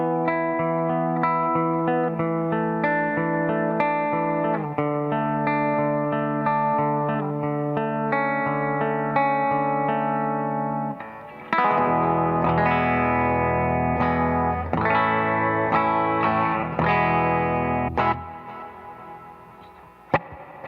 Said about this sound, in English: I typically have it set to the echo setting, which has reverb and then also an echo